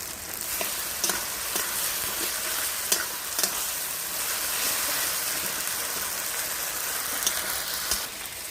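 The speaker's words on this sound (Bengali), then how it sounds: "এগুলো আমি দিয়ে দিচ্ছি ভালো করে কষিয়ে নেব মশলাটা" Ground coriander, ginger and garlic pastes fry hard in a pan for chicken bhuna khichuri, a loud continuous rain-like sizzle broken by occasional spatula scrapes, close and unbroken by speech.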